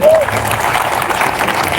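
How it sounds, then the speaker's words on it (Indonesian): A church congregation claps together during a Christian sermon service, a dense, steady wash of applause that holds at a moderate level throughout, with a voice faintly over it at the start. "Mari kita tepuk tangan semuanya."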